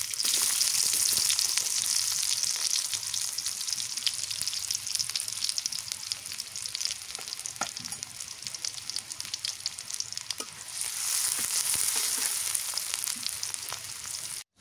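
Onions hiss and crackle steadily in a hot pan of oil for a fish curry with bottle gourd. The close, bright sizzle dips a little midway, then swells back up with scattered pops.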